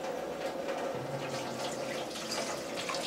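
Rice for a mutton biryani is rinsed in a sink, a faint, soft splashing and trickling of water with light swirling sounds, close by and without talk.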